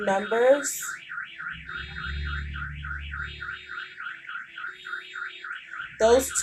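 A car alarm wails in a rapid, rising-and-falling siren pattern for several seconds, loud and steady, with brief bits of speech at the start and end.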